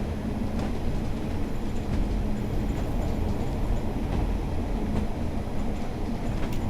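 Class 142 Pacer railbus, ex-Arriva TfW, running in a train simulator on the West Somerset Railway: steady rumbling wheel and engine noise with faint rhythmic clicks, constant and close.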